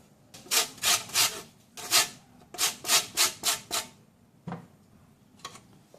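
A lemon is scraped against a zester in about nine quick, rasping strokes, close and fairly loud, in short bursts with brief pauses between them.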